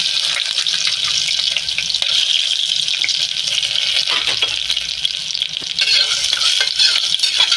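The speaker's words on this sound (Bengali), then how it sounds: "আমি এটাতে বড়িটা এই বড়িটা ভাজবো" Homemade bori lentil dumplings frying in hot oil, a loud, continuous crackling sizzle up close, with light stirring and watery splashes mixed in, no voices.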